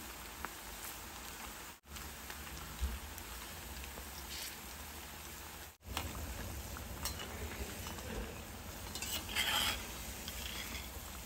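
Continuous sizzling of hyacinth bean pod pakoras frying in oil, a rain-like crackle with occasional stirring scrapes, steady and close, no voices.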